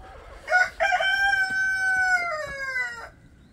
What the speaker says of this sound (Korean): 아주 닭 울음소리가 아주 웅장하네요.